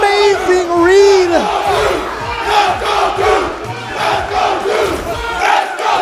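Loud crowd cheering and yelling at a Street Fighter V: Arcade Edition top-eight tournament match at Texas Showdown 2018, a continuous roar of voices with rising whoops and shouts throughout.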